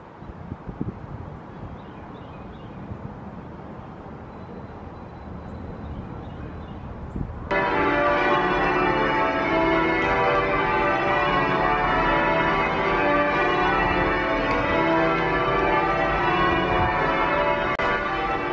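Change ringing from an American church bell tower, heard from up in the tower: at first quiet wind and rustle, then a dense, loud, continuous peal of many bells striking in overlapping rounds that carries on to the end.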